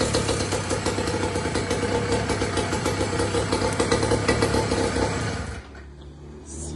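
The small engine of a motorized bicycle runs with a rapid, rough, buzzing putter for over five seconds, then cuts out abruptly, leaving a low quiet hum.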